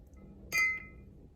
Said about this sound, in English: with the glass, I was just flicking it, rubbing my finger around the rim to create that like high pitch sound